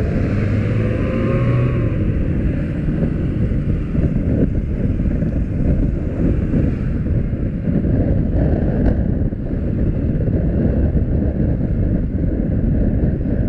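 A Honda PCX150 scooter is ridden through traffic, its engine humming steadily under strong, continuous wind buffeting on the microphone.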